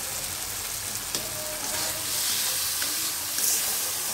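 Masala with turmeric and salt fries in oil, a continuous bright sizzle with a few soft clicks of stirring, steady and close, no voices.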